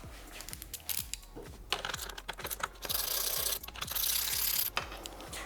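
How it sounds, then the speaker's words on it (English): A 10mm socket wrench ratchets and clicks while removing the taillight nuts on a 2013-2016 Honda Grom, with metallic clicks and clinks spread through the clip alongside brief handling noises. "now we're ready to grab a 10mm socket and remove these nuts"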